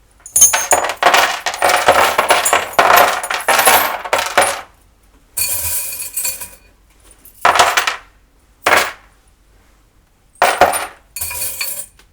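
Small metal tarot charms are dropped and shaken in bursts, jangling and clinking loudly up close, with short pauses between handfuls.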